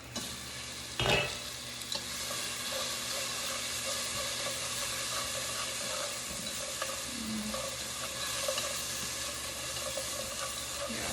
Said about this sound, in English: I just have to do a lot of stirring because it starts to burn pretty quickly